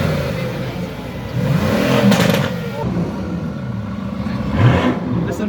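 Sports car engines, including a 65-series car, rev and accelerate away at an African car meet, with loud rising and falling engine swells close by, and voices talking over them.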